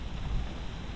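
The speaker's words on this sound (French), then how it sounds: "ça n'a pas l'air d'être une grosse pluie comme la dernière fois" Light rain falls outdoors as a steady, even hiss of fine drops, soft and continuous with no voices.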